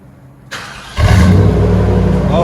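The 5.7L V8 of a Chevy Silverado, fitted with a Super 10 exhaust, fires up and revs into a loud, deep, rumbling roar. The engine rises sharply at about one second and holds heavy and close, with no talking.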